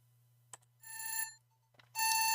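Alarm beeping in the Night Cascades video game: two sustained bursts of bright electronic ringing, the second following a short gap with a few faint blips, loud and alone with no talk.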